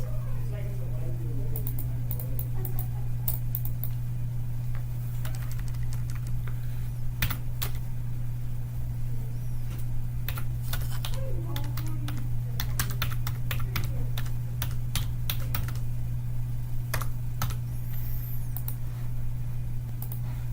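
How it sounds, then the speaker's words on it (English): Typing on a computer keyboard while building an Excel pie chart: scattered clusters of close, crisp key clicks and taps over a steady low electrical hum, with some faint talk in the background. "we're going to type. So I'm going to type in monthly expense as"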